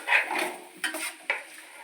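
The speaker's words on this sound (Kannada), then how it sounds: "ಈರುಳ್ಳಿ ಹಾಕ್ಬಿಟ್ಟು ಫ್ರೈ ಮಾಡ್ತಾಳೆ." Onions frying in hot oil in a pan, with soft sizzling and a few sharp scrapes of a utensil stirring against the pan, close and fairly quiet.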